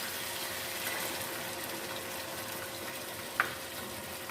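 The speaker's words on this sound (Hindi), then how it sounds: "थोड़ा सा पानी ऐड कर लेते हैं" Water pours steadily into a pot of chicken biryani masala made with yogurt, spices and garam masala, giving a continuous even wash with one brief clink near the end.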